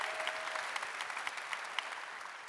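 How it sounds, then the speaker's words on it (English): Applause from an audience at the Stanford Athletics Board Awards, a soft, steady patter of many hands clapping at a distance with no voices over it. "Can we just give a round of applause for that answer?"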